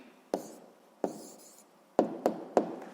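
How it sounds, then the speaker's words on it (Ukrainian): Chalk or marker writing an answer on a board during a math lesson: a few sharp taps and short strokes, two isolated then a quicker cluster of three, close and fairly quiet with no talking. "Записуємо відповідь."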